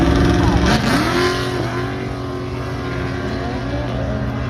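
A drag racing car launches down the strip at the Sick Summer 2024 event, its engine note sweeping sharply upward at the start and then holding a loud, sustained roar as it pulls away.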